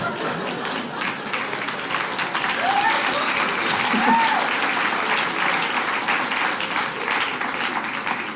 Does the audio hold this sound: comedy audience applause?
yes